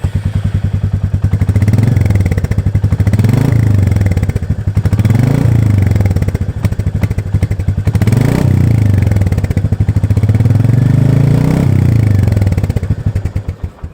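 A motorcycle on its stock exhaust revs repeatedly from close by, with a burbling idle that rises into several throttle blips and falls back, loud and with no voices.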